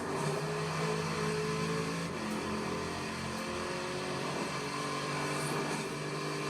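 Chevrolet Corvette mid-engine car driving in Forza Horizon 4, a steady engine drone with shifting tonal whine at moderate level, continuous without talk.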